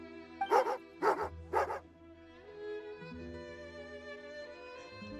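A dog in the Genshin Impact video game barks three times in quick succession, loud and close, over a steady layer of soft game music.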